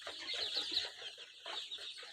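Sonali chickens about thirteen days old on a poultry farm, a brief close burst of soft clucking and peeping that dips and resumes, with no talking.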